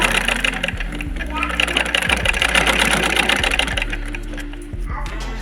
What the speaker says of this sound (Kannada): ಈಗ ಹೊಲಿಗೆ ಹಾಕಿ ನೋಡ್ತೀನಿ ರೀ